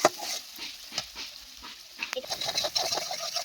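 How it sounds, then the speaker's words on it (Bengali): Egg cracked over onions frying in a pan for chowmein, stirred gently with a spatula, giving a soft sizzle broken by light scraping taps, close and fairly quiet. "ডিম ফাটিয়ে এই পেঁয়াজের মধ্যে দিয়ে দিলাম, দিয়ে হালকাভাবে নাড়াচাড়া করতে করতে দেখতে হবে ডিমটা খুব সুন্দরভাবে ভাজা হয়ে যাবে"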